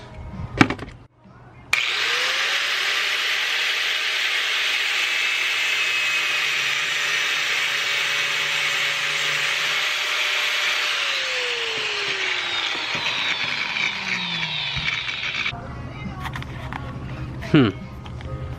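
A power tool cuts through the rotor shaft of a distributor during a slim cap install for a coil-on-plug kit. It runs as one loud, steady whine for about thirteen seconds, then winds down, with brief knocks before and after.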